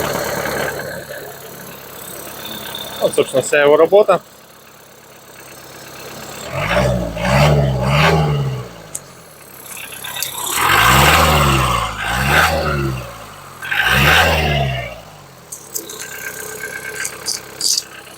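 A tractor engine is started, with an exhaust pipe on the left side, then runs in a low, throbbing idle with a couple of revs rising and falling, while someone speaks briefly over it.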